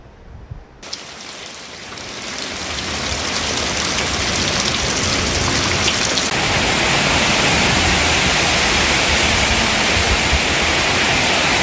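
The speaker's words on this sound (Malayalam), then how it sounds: "കടുത്ത വെയിലിന് ആശ്വാസമായി പെയ്ത കനത്ത മഴ മലയോരത്തെ വിറപ്പിച്ചു" Heavy summer rain pours down in a hilly area of Kerala, rising from light patter into a loud, dense, continuous roar on surfaces that holds steady to the end.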